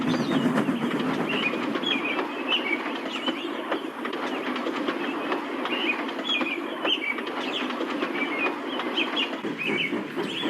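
A steam engine rolling along rails, a steady rhythmic chugging and rattle that stays even and moderately close, with birds chirping faintly above it.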